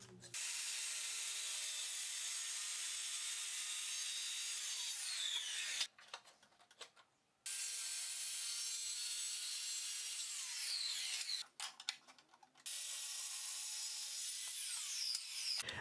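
Grooves being cut in wood for a cabinet back panel, a loud continuous cutting whine broken by two brief pauses where the tool stops and restarts.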